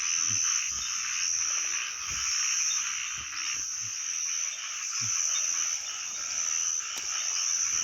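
Frogs croak in the rain at night, a dense chorus with scattered deeper croaks that repeat every second or so over a steady high-pitched trilling drone.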